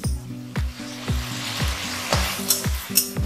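Tomato paste for crab kalia sizzles steadily in a hot pan while a spoon stirs and scrapes in a regular rhythm, close and moderately loud, with no voices over it.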